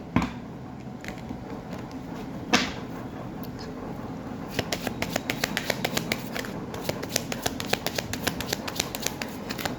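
Tarot cards are shuffled and drawn from a deck, making soft rustling and a string of crisp, quick flicks and snaps, close and fairly quiet, with a sharper slap early on.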